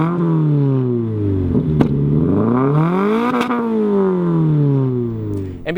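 A car with a muffler-less catback exhaust and resonated mid-pipe revs loudly up and down twice, its raspy engine note climbing and falling in smooth sweeps at close range.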